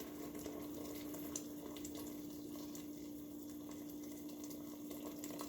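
Boiled water pours continuously into a pot of vegetables with a steady splashing rush and a low constant hum underneath.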